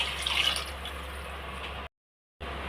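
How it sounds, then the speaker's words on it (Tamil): Water poured into a pot of rice for paneer pulao, a soft steady splashing fill lasting under two seconds before stopping abruptly, with no voices. "இப்போ தண்ணி இவ்வளோ சேர்த்துக்கலாங்க"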